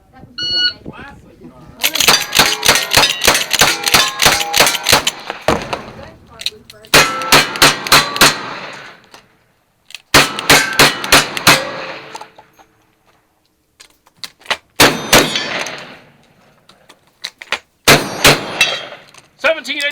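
Rapid gunfire during a shooting match stage, with steel targets clanging and ringing after hits, delivered in several loud bursts of quick shots separated by short pauses.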